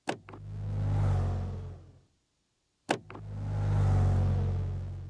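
Two synthesized engine revs, each starting with a sharp click, swelling into a deep roar and fading, separated by a brief silence.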